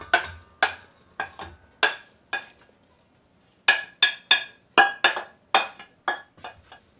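Meat for sheet pan enchiladas is stirred in a pan, a close series of sharp scraping clinks of a utensil against metal in uneven strokes, with a short pause partway through and then a quicker run of strokes.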